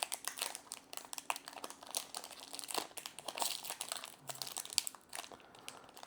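Crinkly plastic wrapper of a Magic: The Gathering Strixhaven booster pack being pulled and torn open, with close, steady crumpling and crackling that continues for several seconds without pause.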